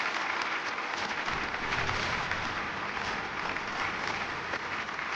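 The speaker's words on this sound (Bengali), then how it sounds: "অসুবিধা জোরে হাততালি।" Dense, steady applause from a studio audience at a Bengali TV game show, a broad continuous wash of clapping filling the whole stretch at even loudness.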